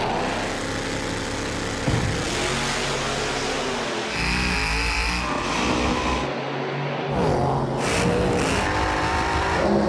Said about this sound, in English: He's got a badass nitrous car, so this should be a good race.